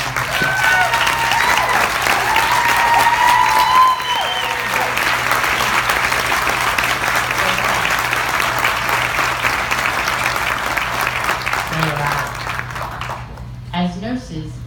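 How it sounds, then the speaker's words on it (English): Long, steady round of audience applause for nurses standing at an event, dense clapping with occasional voices and cheers mixed in, tapering off near the end as a voice begins speaking. "can we give them a round of applause?"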